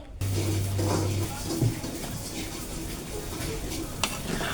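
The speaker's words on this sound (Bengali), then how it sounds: "যে মাংস পাতিলে তেলটাকে আস্তে আস্তে ঢালছি" Hot oil poured slowly into a pot of beef for Eid beef pickle, giving a loud, steady sizzle and frying hiss with pot clatter, under a voice.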